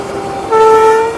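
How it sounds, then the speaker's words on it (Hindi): Train passing and overtaking at Bachhwara Junction on an Indian railway, heard as a close rumble with a sustained horn tone rising in the second half. "हमारी ट्रेन को ओवरटेक करके निकल रही है बछवाड़ा जंक्शन पर"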